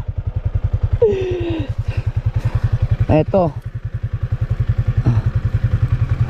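A motorcycle engine idles with a steady, throbbing thump while the bike is handled and put on its center stand, with a few clattering knocks, under someone speaking and exclaiming nearby.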